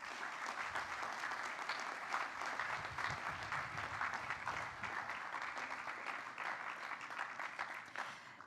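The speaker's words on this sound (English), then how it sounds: "that we all do a round of applause for each other and encouragement for the future" Sustained applause from an audience at a health system signing ceremony, a continuous, moderately distant wash of many hands clapping that holds evenly throughout.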